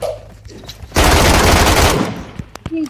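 Automatic gunfire rattles in PUBG Mobile, one loud, dense burst of about a second, followed by a few sharp isolated shots and brief voices.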